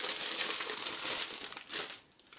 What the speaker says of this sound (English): It's kind of in this nice wrapper, so I'm going to go ahead and take that out.